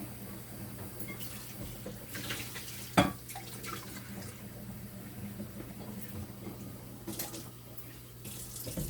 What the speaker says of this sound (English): So the spoon, you keep washing it off.